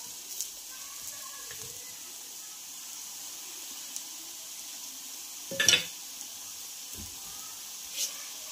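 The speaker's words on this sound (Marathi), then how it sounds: "मीडियम गॅसवर ह्या टिक्की फ्राय करून घ्यायच्या आहेत" Aloo tikki, spiced potato patties, shallow-frying in a pan over a medium gas flame, giving a soft, steady sizzle with a brief clatter partway through and a small knock near the end.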